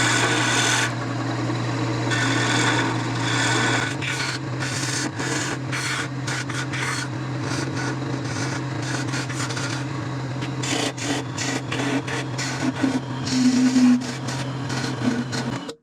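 Woodturning tool scraping and rounding the ends of a wooden piece spinning on a lathe, a steady close rasping rub over a constant low motor hum, with repeated bursts as the tool is pressed in and eased off, no talking.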